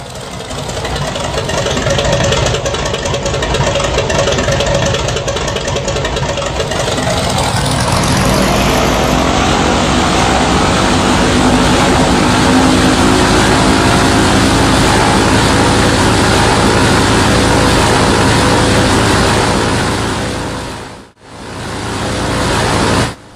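An Extra 300 aerobatic plane's engine runs steadily and loud through a hammerhead stall, its pitch climbing and thinning around the top before a brief sharp cut, then the drone resumes.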